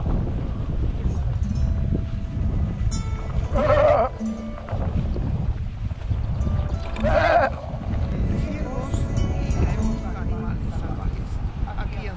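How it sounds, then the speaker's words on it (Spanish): A flock of sheep in open country in Sweden, with two or three bleats rising moderately near over steady, heavy wind rumbling across the microphone. "hacia la derecha, no lo pueden ver, pero hay un montón de ovejas"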